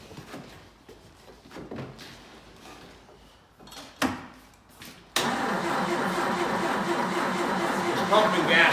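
A 1962 Jeep M170 with a rod knock on a new engine is quiet at first, with scattered clunks and faint voices. Then the engine catches abruptly and settles into a loud, steady, close running rumble.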